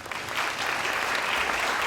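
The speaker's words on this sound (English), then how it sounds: "Nikki, a round of applause for Nikki." Audience applause at a biosecurity symposium launch, a dense, fairly loud round of clapping swelling over two seconds.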